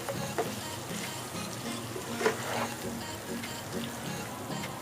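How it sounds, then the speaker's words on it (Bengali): Green chilies stirred in a frying pan of potato curry (alur dom), a steady soft sizzle with faint scraping and one brief louder clink midway. "কাঁচামরিচ দিয়ে আমি একটু ভালো করে নেড়ে দিচ্ছি"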